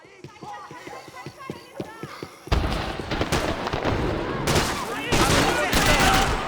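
Rapid gunfire and explosive shooting in the video game Max Payne 3, a dense loud barrage of overlapping shots after a quieter stretch of sparse pops, continuing without pause to the end.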